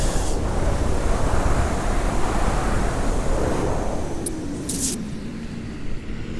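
Strong, roaring wind buffets the microphone during a paraglider flight over a deep copper mine. The rush stays loud and continuous, easing slightly toward the end, with a couple of brief high-pitched blips.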